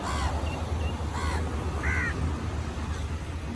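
Several crows caw in short harsh bursts, a few calls spaced across a steady outdoor background hum, at moderate distance with no talking.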